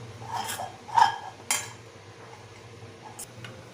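Hot ukad rice-flour dough pressed and mixed with a spoon on a metal plate, a few sharp scraping clinks and taps spaced irregularly, close and fairly quiet over a low background hum.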